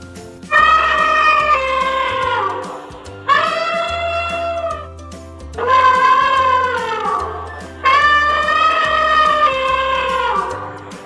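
Four long, drawn-out cat meows, each lasting about two seconds, come loud and close with short pauses between them.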